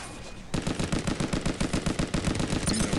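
Steady rhythmic automatic weapon fire in the Armajet video game, a loud, evenly spaced stream of shots continuing for several seconds after a quiet start.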